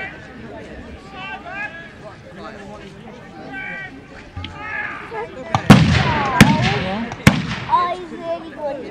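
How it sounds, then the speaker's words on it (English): Arquebus matchlock guns fire at a historical battle reenactment, three sharp loud reports spaced a second or so apart, over a murmuring outdoor crowd and someone talking. "The hackle bus is going off there."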